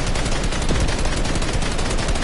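Sustained, loud automatic gunfire in a video game as a wall gets shot up, a dense continuous rattle with no pauses.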